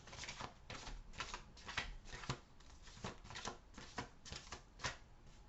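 Tarot cards are shuffled and riffled in a quick, uneven series of soft papery flicks and slaps, close up and quiet, with no talking.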